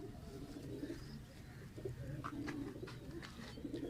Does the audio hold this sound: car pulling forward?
no